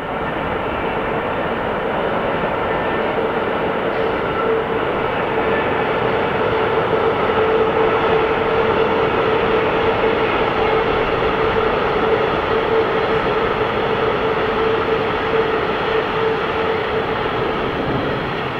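A steady, loud rumble of an electric train rolling past at constant speed over a bridge across the Franconian Saale near Gemünden am Main, with a faint tonal hum running through the whole passage.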